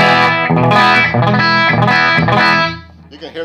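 A loud, crunchy distorted electric guitar riff through a Jamtastik distortion pedal rings out with sustained chords, then fades into a quieter tail.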